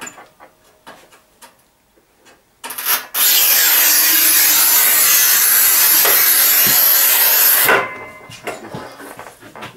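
A Rubi manual tile cutter scores ceramic tile in one continuous, harsh scraping stroke lasting about five seconds. Scattered light clicks and handling taps come before and after the stroke.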